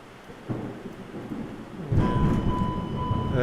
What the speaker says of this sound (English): It's raining hard here right now.